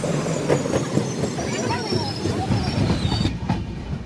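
A Konkan Railway train runs along the tracks near Rajapur station in rainy monsoon weather, with a steady rumbling clatter throughout. Faint voices sit in the background.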